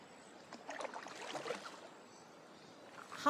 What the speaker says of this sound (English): right now I am rowing down the Mossman River in the Daintree